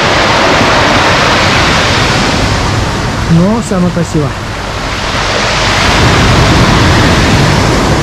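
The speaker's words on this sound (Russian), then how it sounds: "Очень не самые большие волны" Storm waves crash steadily onto the shore at Lazarevskoye in a loud, continuous wash of surf, while someone speaks briefly over the roar midway.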